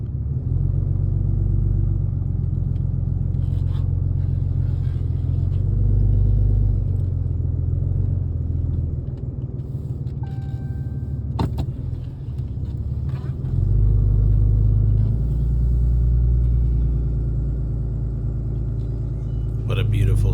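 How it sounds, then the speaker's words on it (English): Pickup truck driving down a grass runway on rural land in Maine, a steady low engine rumble inside the cab with slight swells, and someone talking over it. "Gonna hop in the truck here, drive down to the end of the runway"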